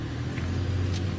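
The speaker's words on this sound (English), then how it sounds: "all of a sudden we've got cars all over the place" Cars rumble past on a nearby road in a brief, steady engine wash with a low hum and no speech.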